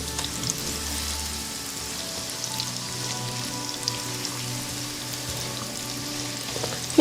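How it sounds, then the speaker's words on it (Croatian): Onion and garlic fry steadily in a pan, giving a continuous close sizzle with soft crackling and the occasional light stir throughout, with no talk. "bitno je propržiti luk i bijeli luk"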